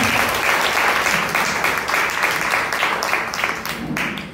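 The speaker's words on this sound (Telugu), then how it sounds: "చప్పట్లు కొట్టి దేవుని స్తుతిద్దాం." A church congregation claps in praise, a dense, sustained round of applause with steady rhythmic clapping that fills the room throughout.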